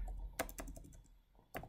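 Computer keys clack in short bursts while text is entered in Microsoft Word, a few quick close taps clustered together, then a pause and one more brief flurry.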